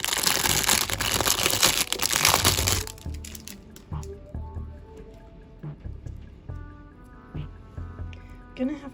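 Crinkly plastic packaging is torn and crumpled from an Elves craft box, loud and dense for about three seconds, then quieter scattered crackles and rustles with a voice talking over the handling.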